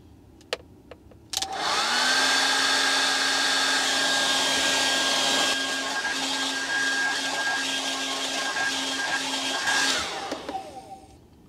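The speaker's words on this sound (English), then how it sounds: "There, EV powered blow dry." A hair dryer runs on power drawn from a Kia EV6's vehicle-to-load port: a few clicks, then it switches on to a loud, steady blowing whine for about eight seconds before winding down.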